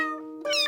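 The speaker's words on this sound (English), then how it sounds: "They made a cat guitar pedal that meows when you play into it." A Meowdulator cat guitar pedal turns played notes into a short synthetic meow, a sustained tonal note bending into a brighter, rising meow-like cry, close and clear.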